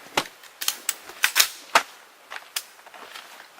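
Rapid gunfire of 5.56 full metal jacket rounds at a ballistic barrier test, a string of sharp cracking reports, some quick doubles, spread irregularly over a few seconds and moderately loud.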